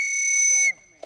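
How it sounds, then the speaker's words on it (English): A sharp, shrill police whistle blast during a firearms training drill holds steady for most of a second, then cuts off as a voice begins talking underneath and a short thump follows. "the whistle's what's going to signify him reaching down"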